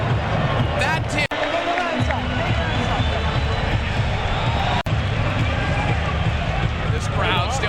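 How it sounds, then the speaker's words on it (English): A boxing arena crowd roaring at a Tim Tszyu vs Tony Harrison fight, a broad, steady wall of cheering and noise with a commentator's voice running over it. "This crowd still erupting."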